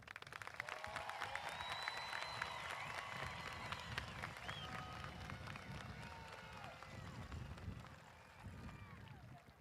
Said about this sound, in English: Let's give our class of 2024 a round of applause.